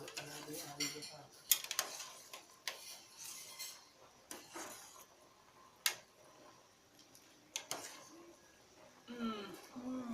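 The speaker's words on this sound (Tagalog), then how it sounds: "Mga bro, inahalo na natin yung ating supas." A spoon stirs a pot of sopas soup, giving irregular metallic clinks and scrapes against the pot, with a few sharper knocks and a faint voice now and then.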